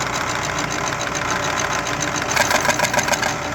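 KidWind alternator with a caged magnet rotor spinning at about 400 RPM, giving a steady, loud mechanical whir and hum with a slight rhythmic flutter throughout.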